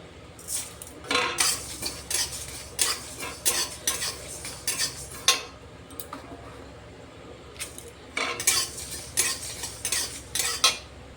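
White and black mustard seeds are dry-roasted in a pan for raw mango pickle masala: bursts of close, rattling scrapes and metallic stirring against the pan, with a pause midway before the scraping resumes.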